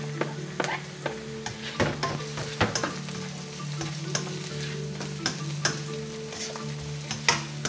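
Garlic sautés in a pan for a squid adobo, a steady sizzle broken by frequent clacks and scrapes of a utensil stirring, fairly close and moderately loud.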